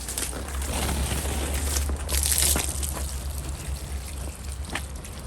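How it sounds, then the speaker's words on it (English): Water pours and trickles into a bag of orchid bark during Cattleya repotting, a steady, close, moderately soft gushing stream with faint crackling of wet bark. "filling the bag up with water"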